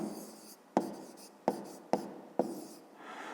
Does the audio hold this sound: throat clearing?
no